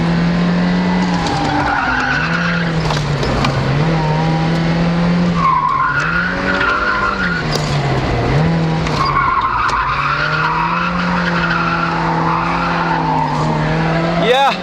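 Mazda Miata drifting on a track at Bonneville, with continuous loud tire squeal that wavers in pitch as the car slides, over a steady engine drone. A voice is briefly audible underneath.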